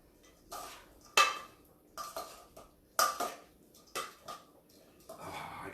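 Brown rice and kale salad tossed with tongs in a bowl: several soft clattering scrapes and clinks come in uneven bursts, close by.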